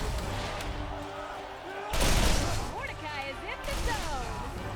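Legendary Vengeance gun firing in the Borderlands video game: rapid shots with one louder burst midway, mixed with game effects and music.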